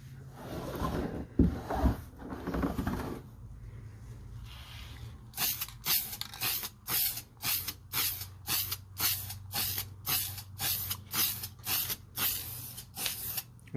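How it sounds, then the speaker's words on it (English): Rapid series of short aerosol spray bursts laying a light tack coat on a car diffuser, about a dozen close hissing puffs in quick rhythm, preceded by a few longer sprays and a softer rustle. "Just a tack coat to get it prepared to take paint."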